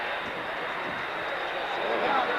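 The three-jet-engine Shockwave jet truck at the 1992 Salinas airshow roars with a loud, steady broadband jet rush that builds slightly toward the end, heard from a distance.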